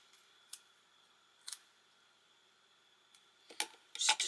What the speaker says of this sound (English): I'm going to cut off some of this excess here